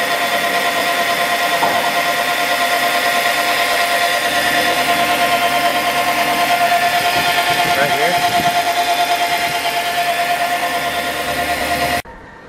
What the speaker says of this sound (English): The whining noise you hear is the plastic rubbing on the chain.